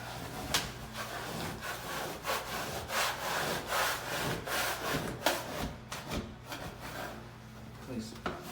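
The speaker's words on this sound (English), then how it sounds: "On a 15-degree or less angle against the wall, I'm going to start scraping off my wall covering." A handheld scraper pushed at a shallow angle strips stubborn wallpaper from a textured wall, giving a steady run of close, rough scraping and rasping strokes with uneven rhythm.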